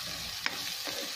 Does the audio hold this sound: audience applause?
no